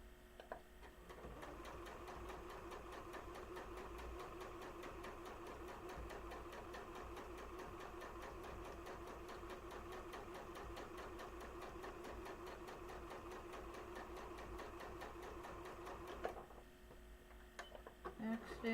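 A domestic sewing machine runs steadily for about fifteen seconds, back stitching along a seam on a Christmas sewing project, a rapid even needle rhythm that stops abruptly, followed by faint handling noises.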